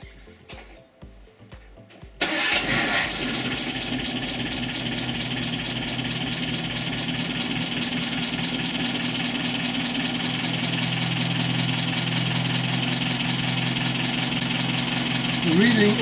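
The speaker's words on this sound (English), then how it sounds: "So we'll start the engine and see what reading we get." A Triumph TR-series car engine cranks briefly, then catches and settles into a loud, steady idle with an even running note that holds to the end, checked with a dwell meter clipped to the coil's low-tension lead.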